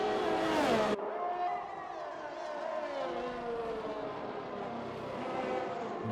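A Williams F1 car in a racing video game runs down the pit straight with DRS disabled, its engine note holding a steady high whine that sweeps gradually lower, loud and close, with no voices.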